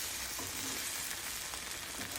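A stuffed egg fries in a pan on the stove, giving a constant hissing sizzle with faint scraping as it is flipped, and no talking.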